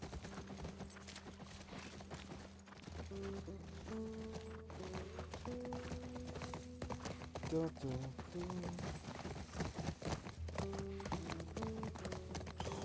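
Rhythmic clip-clopping hooves of a horse in the video game The Last of Us Part 1 run steadily under sustained musical tones, with people talking over it.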